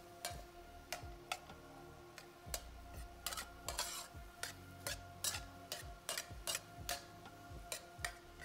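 Chicken is stirred with soy sauce in a pan for lettuce wraps, giving quiet regular ticks and taps of the spatula against the pan over a faint sizzle.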